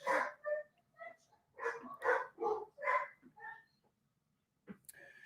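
Several dogs bark in loud, repeated bursts close by in a room during a live football stream of England versus Scotland at Euro 2020, with short gaps between barks and a brief yip near the end.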